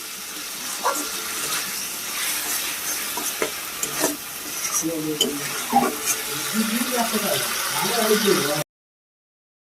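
Egg chilli masala being stir-fried in a pan for a homestyle egg chilli, with a steady close sizzle and scraping stirring strokes under faint background voice, ending abruptly.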